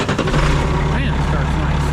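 A cheap used semi truck's diesel engine catches and settles into a loud, close, low rumbling idle, steady throughout the short stretch.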